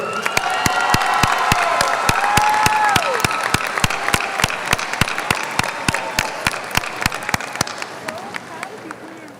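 Steady applause from a crowd at a 2024 Martin High School graduation ceremony, dense clapping with a few cheers, and an announcer's voice carrying over it from the loudspeakers.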